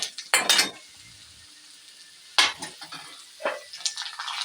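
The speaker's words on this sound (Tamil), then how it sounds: "முதல்ல வதக்கி, அதாவது இதில் கடலைப்பருப்பு போட்டுக்கிறோம். அதோட உளுந்தம்பருப்பு நல்லா எண்ணெயில் வச்சுருக்கிறோம்." Chana dal and urad dal frying in oil in a pan, a few short bursts of sizzling and stirring separated by quiet gaps, close and fairly soft.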